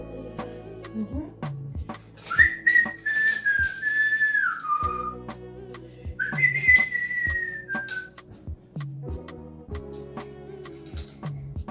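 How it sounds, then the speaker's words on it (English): A person whistles a sliding, wavering melody in two long phrases, close and clear, with rhythmic tapping or drumming underneath. "You whistle."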